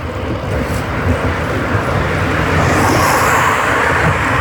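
An old car drives past on a road at night, its broad engine and tyre rumble swelling gradually from moderate to louder over a few seconds, with no voices.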